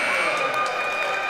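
Steady crowd applause in a gym at a boys' high school basketball championship game, a continuous wash of clapping rising for the starters as substitutes come in, with a faint announcer voice mixed beneath.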